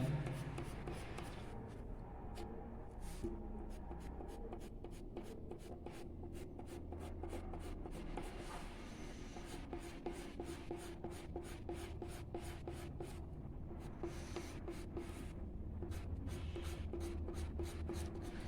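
A pencil draws strokes on paper for a figure drawing, a soft, close scratching that comes in quick repeated strokes with short rhythmic gaps, faint and steady throughout.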